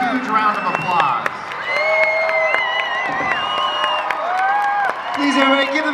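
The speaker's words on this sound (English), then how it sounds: "Let's send them off with a huge round of applause" Fan convention crowd at a FanX 2023 panel claps, cheers and whoops to send off the panelists; loud, continuous applause mixed with shouting voices and excited yells, swelling again near the end.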